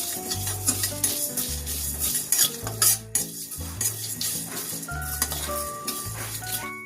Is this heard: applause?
no